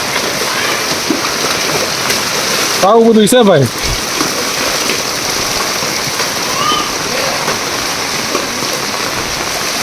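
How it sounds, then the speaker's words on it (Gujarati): Heavy rain pours down over floodwater in Surat as a dense, steady roar that fills the whole stretch, with someone speaking briefly near the start. "ભાઈ સતત સવારથી 8 વાગ્યા વરસાદ ચાલુ થઈ ગયો છે"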